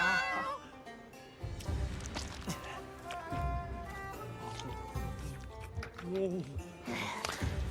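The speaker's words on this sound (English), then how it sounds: "my kitty's in the room with me" Domestic cat meowing indoors, a few short, fairly close meows breaking through over continuous game music and a person speaking.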